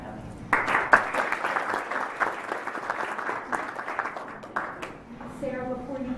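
A room full of people at a political candidates' forum applauds steadily for several seconds, the clapping fading out as a voice begins speaking at the end.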